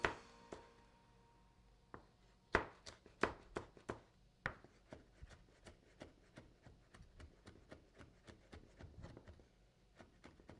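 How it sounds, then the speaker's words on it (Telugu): A knife finely chopping a small piece of chilli on a board, a series of quiet, sharp, close taps in a fairly quick irregular rhythm. "ఒక చిన్న ముక్క చిల్లీ, కాస్త ఫైన్గానే చాప్ చేసుకుంటున్నాను"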